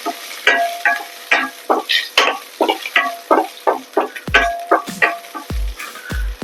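Green chilli and curry leaves spit and crackle in hot oil in a pan, with a rapid run of loud, close bursts and spatula scrapes coming in quick, uneven rhythm.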